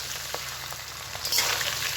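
Cooked boiled rice sizzling and frying in a hot pan for vegetarian vegetable fried rice, a steady close crackle with a brief louder burst of sizzle near the end, no talking.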